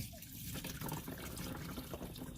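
Coolant gushing and splashing out of a car engine, a steady liquid pour with dripping and trickling throughout, fairly close and continuous, with no talking over it.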